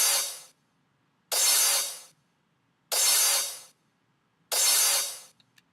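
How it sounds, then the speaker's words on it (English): Soloed crash cymbal in a riddim production, four bright washy hits spaced about a second and a half apart, each decaying quickly into silence, with no other sound. "a crash cymbal that's hitting on each kick and snare"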